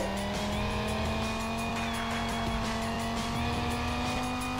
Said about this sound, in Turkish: Şimdi arabayı drift show'una sokuyoruz.